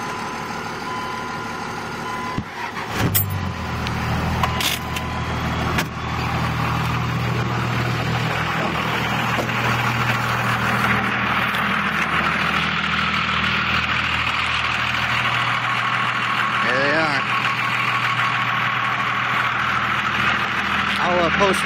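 A Cummins diesel engine cold-starts and idles at -7°F, a loud low rumble settling into a steady idle with a few clatters early on and a brief chirp later, heard up close outdoors.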